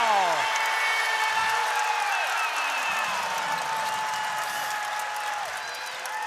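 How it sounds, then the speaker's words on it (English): A college basketball arena crowd cheers and applauds for Virginia Tech during an ACC game against Charlotte, a broad sustained roar with scattered whistles that slowly eases. "Hokies crowd loving that."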